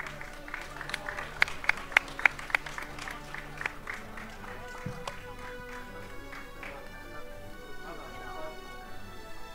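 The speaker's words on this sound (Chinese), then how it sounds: "给掌声好不好？" Applause and crowd noise at a Hong Kong kickboxing championship event, with bursts of sharp claps in the first few seconds that then thin into a steady background murmur with scattered tones.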